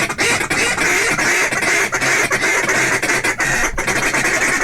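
A loud, continuous duck call imitates feeding ducks, a rapid chattering stream mixed with quacks, very close and with no pause.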